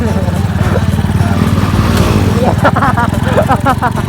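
A Honda Sonic motorcycle engine drones loudly and close during a wheelie, a steady mid-pitched buzz with rising revs, while someone talks over it.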